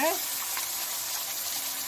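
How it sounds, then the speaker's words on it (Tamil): Water pours steadily into a hot pan of coconut, a continuous hissing gush with a brief sizzle at the start, close and fairly loud. "ஒரு அரை கிளாஸ் தண்ணி ஊற்றணும்."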